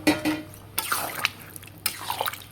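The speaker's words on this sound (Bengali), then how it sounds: "এবার এর মধ্যে আমি দিয়ে দিচ্ছি জল।" Water goes into a pot of chicken curry with potatoes, giving a few splashing, trickling bursts spaced across the moment, close and moderately loud with no voices.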